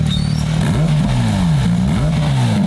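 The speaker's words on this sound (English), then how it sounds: "so this is the spectacular cold start" A car engine cold-starts and is revved repeatedly, its pitch sweeping up and down in several rising and falling surges, loud and close with no talking over it.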